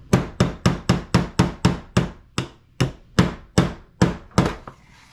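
A nylon hammer taps a pin into an airsoft gas magazine, striking about fourteen sharp, close knocks, a quick even burst at first, then slower, spaced blows toward the end.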